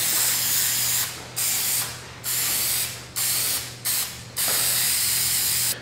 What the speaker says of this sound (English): I spray from all sides